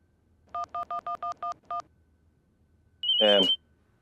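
Seven quick, evenly spaced keypad tones of a phone being dialed, followed by a brief pause and a short electronic ringback burst.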